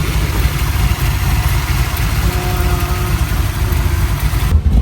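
A 1980 Chevrolet Malibu street cruiser with a big-block Chevy 540 and new Holley carburetor runs steadily near the microphone, a loud, continuous engine drone that holds without clear revving for several seconds.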